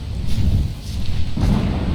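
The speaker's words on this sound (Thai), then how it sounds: "ฝนก็ตกอีก" Steady rain and rumbling storm noise from a thunderstorm in the video game ARK Survival Evolved, a continuous loud wash with low rumble swelling near the end.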